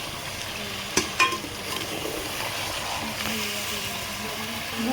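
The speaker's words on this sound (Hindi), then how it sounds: "ये इसके अंदर डाल देंगे और इसको अच्छी तरह भूनेंगे।" Peshawari chicken karahi with green chillies fries in a pan, making a continuous sizzle with a few sharp clatters of a stirring spoon near the start. A voice is faintly present in places.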